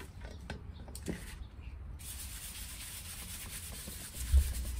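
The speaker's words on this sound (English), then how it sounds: "I will take the time to really give a good scrubbing all the parts" Old suspension parts for a long-travel suspension build are scrubbed clean, steady rough brushing and rubbing strokes close up, with a brief thump near the end.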